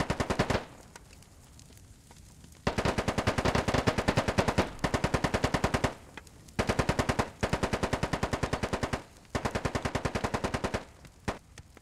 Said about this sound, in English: That was actually some good MG fire there.